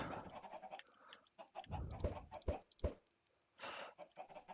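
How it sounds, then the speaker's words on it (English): Chickens in a Minecraft chicken coop, with several short clucks and squawks in an irregular run separated by brief pauses, faint and close, with no talk. "Oh, the new chickens. I forgot they updated the chickens."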